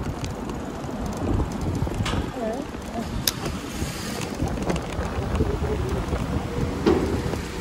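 Steady rain patters and hisses outdoors, with gusts of wind buffeting the microphone and faint voices underneath.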